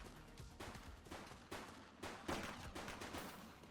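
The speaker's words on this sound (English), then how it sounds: "She's shooting!" Heavy gunfire in a cutscene from the video game The Precinct: dense, loud bursts of shots follow one another steadily, with stronger volleys around the middle.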